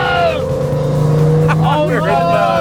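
Cheap Porsche cars accelerate hard side by side in fourth gear, a loud close engine drone rising in pitch, while people shout and talk over it.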